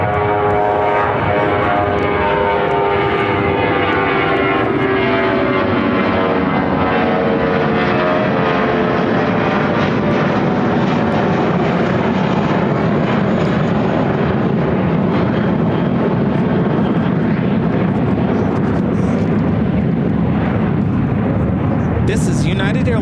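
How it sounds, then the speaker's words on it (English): United Airlines Airbus A320 jet taking off to Boston from O'Hare, a loud sustained engine roar with rising whine tones that holds steady throughout. "This is United Airlines 2171 taking off to Boston on the A320."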